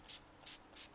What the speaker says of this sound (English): I'm gonna spray this to make my makeup last longer.